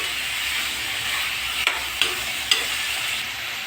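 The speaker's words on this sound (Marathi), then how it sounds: "आता त्यामध्ये टॉमॅटो हे आपण मिक्स करतो छानसं भाजून घेतो आहे" Chopped tomato, onion and chickpeas frying in a pan, a steady hissing sizzle broken by three brief spatula taps near the middle, close and unbroken by speech.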